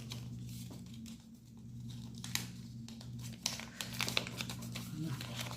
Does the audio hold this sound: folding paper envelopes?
yes